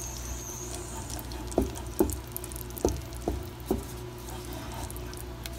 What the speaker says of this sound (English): Now we're going to add 2 cups of chocolate chips and stir them until they melt all the way.